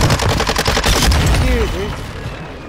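Rapid bursts of automatic gunfire from Call of Duty: Modern Warfare II crackle close and loud, a dense volley of shots that trails off into fading echoes, with a shouting voice briefly mixed in.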